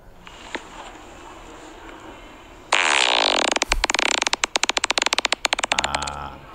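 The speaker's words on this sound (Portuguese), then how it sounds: "Isto é o peido motorizado." A long, loud fart opens as a continuous blast and breaks into a rapid sputtering series of pops, like a small motorbike engine revving, after a quieter stretch at the start.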